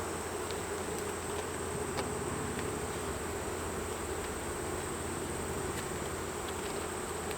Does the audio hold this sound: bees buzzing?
yes